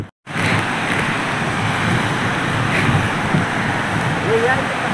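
A waterfall in the hills at Sule village, Kolhapur, roars steadily as a broad, loud wash of rushing water, unbroken after a brief silent start, with wind buffeting the microphone.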